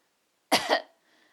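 A person imitates the cough of someone with flu or pneumonia, producing one close, loud cough with a quick double burst before silence returns.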